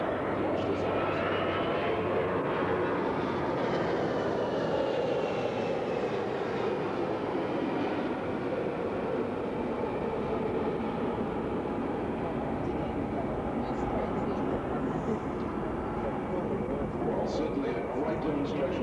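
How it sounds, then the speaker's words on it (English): An Airbus A340 test aircraft flies a slow, high-angle-of-attack pass at the 1992 Australian International Air Show, its jet engines roaring loud and steady throughout with no break. "the aircraft is going to slow right down to around about 105 knots"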